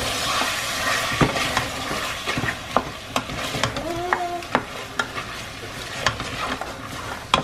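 Spices frying in a pan for a minute or so, a steady sizzle with frequent sharp clicks and scrapes of stirring against the pan.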